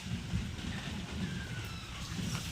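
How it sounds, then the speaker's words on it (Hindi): Rain falling steadily outdoors on a cloudy morning, a continuous soft hiss with low rumbling underneath, fairly even throughout with no voices. "बारिश आ गई और पानी चढ़न लाग रहा है"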